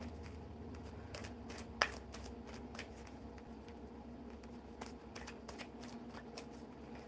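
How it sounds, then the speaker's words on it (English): Tarot cards from the major arcana being shuffled close up, quick repeated riffling bursts in an uneven rhythm, with one sharper snap partway through and no talking. "Shuffling the majors."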